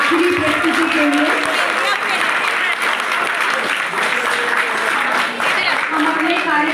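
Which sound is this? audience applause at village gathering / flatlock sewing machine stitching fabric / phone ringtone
audience applause at village gathering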